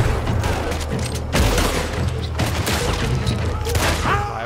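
Rapid gunfire in Red Dead Redemption 2, a dense string of overlapping shots and booms that runs steadily through the whole stretch, with some faint game noise beneath.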